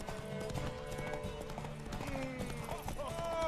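Horse hooves clip-clop at a gallop in The Witcher 3, a steady rhythmic drumming under continuous game music and voices, fairly loud throughout.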